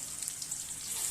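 Ginger and garlic sizzle steadily in hot oil for veg fried rice, a soft, even crackle with faint popping and no talk.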